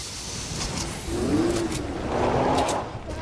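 A car engine hums and rises in pitch as a vehicle is driven in the Fortnite video game, a short stretch of steady motor sound with faint clicks over it.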